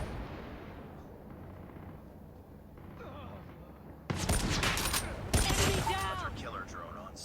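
A LOCUS (PGM 338 LM) sniper rifle in Call of Duty Mobile fires two loud, booming single shots a second apart, each with a long rumbling tail, after a quieter stretch of game noise.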